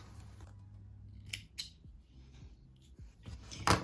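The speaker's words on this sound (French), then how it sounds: "faut que je coupe les petits fils" Scissors make a few quiet, close snips as they trim loose threads from tatami fabric, with faint rubbing of the cloth between cuts. There is no talking.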